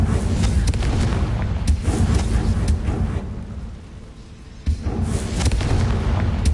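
Confringo spell blasts in Hogwarts Legacy, heavy booming explosions with rumbling low roar, several sharp bursts landing in quick succession then a brief quieter lull before another blast and sustained rumble.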